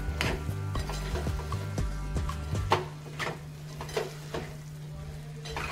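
A spoon stirs chole masala in a pot, giving soft scraping and occasional light metal clinks against the rim along with a faint sizzle, close by and steady.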